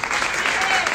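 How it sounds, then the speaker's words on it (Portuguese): A dense wash of applause from a crowd of about 3,500 at a political event in São Paulo, steady and fairly loud throughout the short moment. "Uma salva de palmas para o Felipe Sabará."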